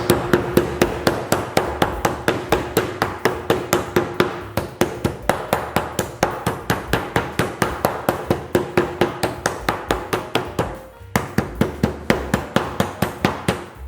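A meat mallet pounds thin pork escalope slices through plastic foil on the corner of a sturdy table, dozens of loud evenly spaced thuds in a steady rhythm with one brief pause.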